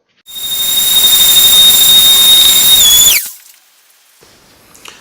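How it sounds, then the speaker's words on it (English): A random orbit sander strips rust from a cast iron tablesaw top with a loud, steady high-pitched whine, then cuts off abruptly and winds down, leaving faint clatter afterward. "I think I'll go with the random orbit sander"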